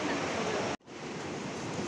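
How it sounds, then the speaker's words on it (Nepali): The Yaru river flows in the Manaslu region of Nepal, a dense, steady broadband rush of water close by, broken by a brief dropout partway through. "अब यतापि यारु खोला छ."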